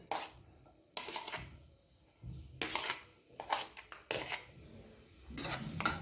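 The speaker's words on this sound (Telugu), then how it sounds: "ఆనియన్స్ వేస్తున్నాను, పచ్చిమిరపకాయలు" Onions and green chillies tipped into a frying pan, a few separate clattering drops and scrapes of utensil on pan spaced through the moment, with no talk.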